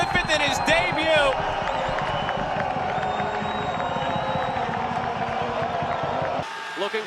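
A soccer stadium crowd roars and cheers loudly after a goal, a dense sustained wall of voices with whoops and whistles, and a commentator talks over it.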